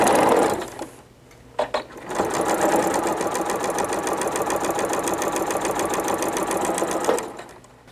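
A sewing machine runs in a steady fast whirring stitch for several seconds, joining bias strips of quilt binding, preceded by brief handling noises and short starts.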